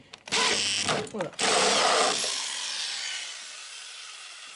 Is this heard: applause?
no